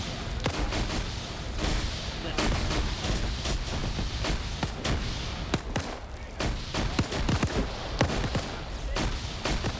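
Grenade explosions in a World War II video game battle, a dense, continuous barrage of loud thumping blasts and gunfire with no pauses.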